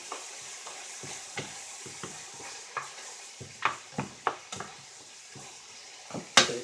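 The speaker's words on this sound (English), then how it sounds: "now we want to just kind of mix this all together" Pizza sauce with basil is mixed by hand in a bowl, with soft wet stirring and scattered clinks of a utensil against the side, rising to a few sharper knocks near the end. Close and fairly quiet, with no talking.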